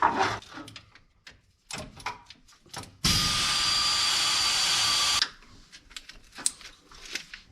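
A power tool whirs steadily for about two seconds as it backs out the last bolt holding an AC compressor on an old pickup truck, nearby and loud, framed by clanks and handling noises of the repair.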